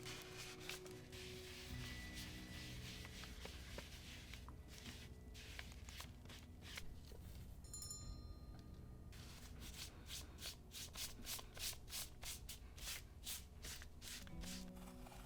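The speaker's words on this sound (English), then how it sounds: "We rub it all over the project and make sure it gets into all the cracks before wiping it away." Antique dye being rubbed into a leather pouch by hand. Soft, close rubbing and brushing strokes come in uneven bursts, quiet overall, with a brief pause partway through.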